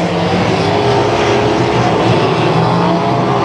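USAC midget race cars from the Eastern Storm series with ARDC midgets roar down a dirt track backstretch, a steady, loud, dense engine drone from several cars running together without pause.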